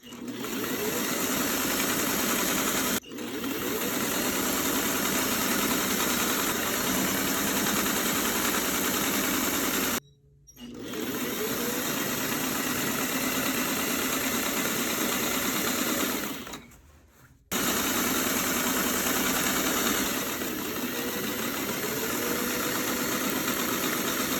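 A sewing machine stitches faux chenille binding in long, loud, steady runs of close mechanical whirring, broken by two brief pauses, with no talking.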